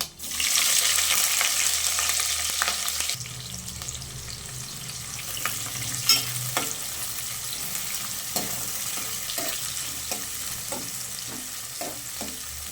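Onion, green chili, cumin and mustard seeds frying in hot oil for aloo curry, starting with a loud hissing sizzle that settles into a quieter steady fry with scattered pops and stirring clicks.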